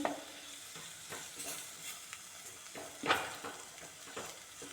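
Coriander powder fries in a hot pan while being stirred, a soft continuous sizzle broken by repeated scraping strokes of a spoon against the pan, close and with no voices.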